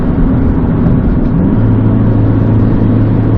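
Isuzu D-Max pickup engine driving in manual shift mode on a hill climb, a loud, steady engine drone with a low hum that settles lower partway through, with no talk.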